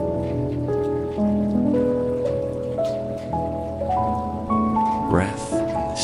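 Steady rainfall patters beneath soft, sustained music, a gentle continuous wash of drops that holds at an even level throughout.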